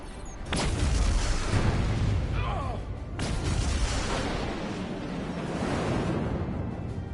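A large explosion detonates in the video game Star Trek Resurgence, a loud booming blast with rumbling, surf-like roar that holds for several seconds, with a second burst partway through.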